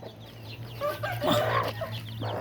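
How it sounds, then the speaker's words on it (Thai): Chickens cluck steadily at close range during evening feeding on a small farm, with overlapping short calls against a low background hum and no talking. "ให้อาหารไก่กันครับผม"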